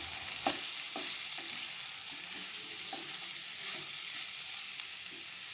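Pork and potatoes stir-fried together in a hot pan, Assamese style, sizzle steadily and loudly throughout, with faint scraping clinks of stirring breaking through now and then.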